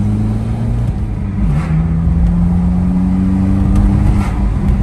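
A first car driven by a newly licensed driver, its engine droning steadily with low tonal hum that shifts pitch as it accelerates, loud and continuous with no talk.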